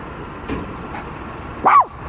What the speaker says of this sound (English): The noise of a truck there